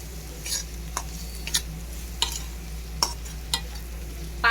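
A spoon scrapes and stirs through a spice and greens mixture frying in a pan with salt, turmeric and chili masala, a steady background sizzle broken by several distinct stirring clacks.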